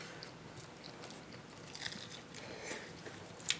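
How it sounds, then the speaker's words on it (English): People chew pizza close to the microphone, with soft wet crunches and bites scattered unevenly over a few seconds in a podcast setting, ending in a sharper bite, with no talking. "I hope you enjoy the ASMR of us chewing pizza."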